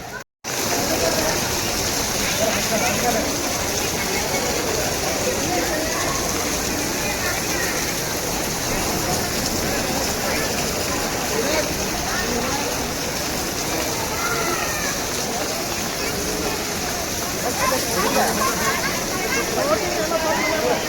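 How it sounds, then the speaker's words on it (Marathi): Steady rain pouring near a temple at Murudeshwar, a dense even hiss that fills the whole stretch after a brief gap at the start, loud and close with no pauses. "पाऊस येतो"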